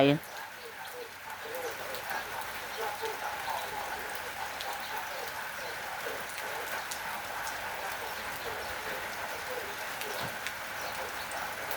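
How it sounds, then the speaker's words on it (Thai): Steady rain patters through foliage in a continuous wash, with faint bird calls scattered in the background. "ฝนตกต้นไม้"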